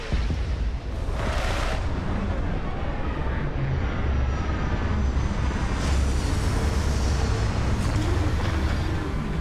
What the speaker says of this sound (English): Captain, landing procedure initiated